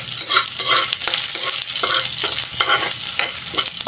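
Chili paste being stirred and fried in a pan, a steady loud sizzle with repeated scraping strokes of the spoon at a regular rhythm, close by and with no talk.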